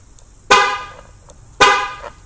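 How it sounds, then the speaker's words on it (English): Two short car horn honks about a second apart from a 2014-or-later Chevrolet or GMC truck activating remote start, close and loud, with quiet in between. "Notice the horn honk on the second and third press"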